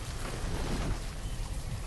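Rain in the Banished village-building game pours steadily as a dense, even hiss with a low rumble under it, continuous and fairly loud with no talking.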